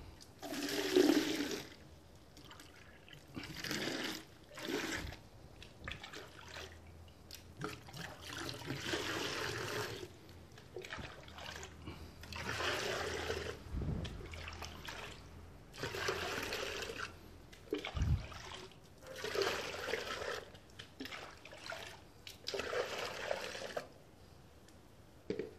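Water scooped from a fish pond to dissolve a treatment, repeated sloshing and splashing pours with trickling in between, close and moderately loud, in irregular bursts over a long stretch.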